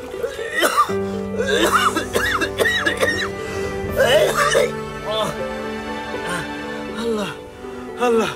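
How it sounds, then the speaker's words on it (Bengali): Repeated harsh coughing bursts come from a person in a dramatic scene, interrupted by strained breathing and voice sounds. Talking is heard throughout. "আমার কাশিটা একটু বাইরে যাইতেছে"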